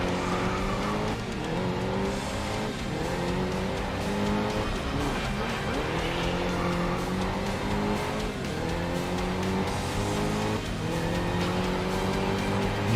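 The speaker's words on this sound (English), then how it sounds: "Oh! I spun out." A race car spins out in the video game GRID Legends, its engine roaring and whining up and down while tires squeal and skid loudly and continuously, with other cars' engines droning alongside.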